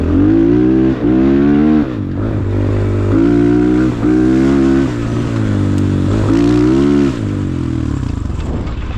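A KOVI 300 Pro two-stroke enduro motorcycle engine revs hard in repeated bursts, each rising then dropping back to a rough idle, loud and close with a raspy two-stroke crackle.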